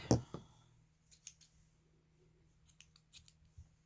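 Scissors snip through crochet yarn after a few slip stitches, with two sharp close cuts at the start and several lighter snips afterward, alone in a quiet room.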